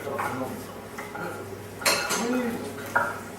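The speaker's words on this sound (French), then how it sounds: "Alors, on prend une petite casserole." Metal pans clank and rattle as a small saucepan is lifted out of a stack in a kitchen, with two sharper knocks and a faint voice in the background.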